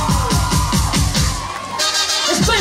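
A studio audience at a Christmas welcome show applauds and cheers loudly for a young singer, with whoops and children's shouts riding over pulsing music for a few seconds.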